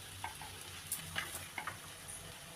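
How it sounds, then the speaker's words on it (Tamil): Chili powder sautéing with tomatoes in a pan for a Sankara fish curry gives a low, steady sizzle with a few soft stirring scrapes. It stays faint and close, with no talk. "நம்ம வந்து இதில் வந்து தக்காளியில் மிளகாத்தூளை போட்டு வதக்குறோம்"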